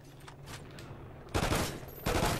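Marksman rifle fire in the online shooter Call of Duty Ghosts, two loud bursts of rapid shots after a quieter stretch of distant gunfire.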